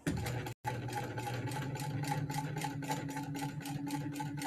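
Close, steady running of a sewing machine as it topstitches a seam on a colour-blocked bag, with a fast, even mechanical rhythm. The motor stops for a moment near the start and then runs on without a break.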